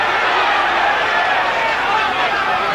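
A large crowd in a boxing arena cheers for heavyweight Joe Bugner, its roar steady, dense and continuous throughout.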